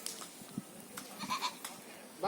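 A goat bleats a few times in a livestock market ahead of the Eid sacrifice, short thin cries rising over a quiet murmur of voices in the background.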